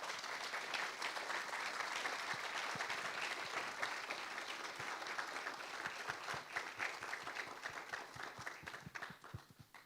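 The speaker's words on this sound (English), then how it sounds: "one round of applause for Amit, please." A round of audience applause for a filmmaker at an independent film screening, a steady wash of many clapping hands, fairly faint and distant, thinning toward the end.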